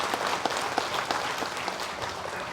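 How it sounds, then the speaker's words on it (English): Applause from an audience at a public event honouring a finance minister, a steady dense wash of many hands clapping with no talk over it. "please give a round of applause to our respected finance minister"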